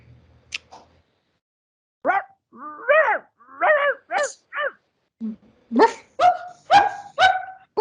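Several people take turns imitating a dog's bark, a run of short, loud, yappy woofs after a brief pause, some higher-pitched than others.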